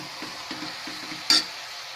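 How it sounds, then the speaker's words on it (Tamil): Chicken sizzles and fries in a pan for a chicken kulambu, a soft continuous hiss with quick stirring scrapes and one sharp utensil clink. "சிக்கன் நல்லா வதங்கணும்"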